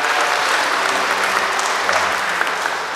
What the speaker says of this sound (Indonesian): Kita kasih tepuk tangan untuk kedua mempelai